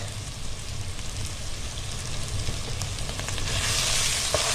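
Chicken with spices frying in a pan, a steady soft sizzle and crackle that swells into brighter hissing toward the end, with no voices.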